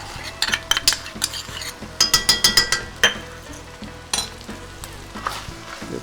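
Lamb mince sizzles loudly in a frying pan as ketchup is stirred through, with repeated scraping strokes and sharp clinks of a utensil against the pan in an irregular rhythm, close and without talk.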